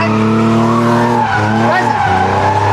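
A drift car at full throttle slides with tires skidding and squealing loudly over a straining, revving engine whose pitch dips and climbs, close and continuous throughout the short burst.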